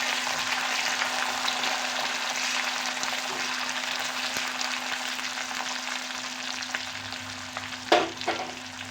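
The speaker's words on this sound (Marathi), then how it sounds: "छान असं परतून घेऊया।" Beans sautéing in oil with chilli, garlic and curry leaves, a soft continuous sizzle with occasional stirring scrapes and a couple of clinks near the end.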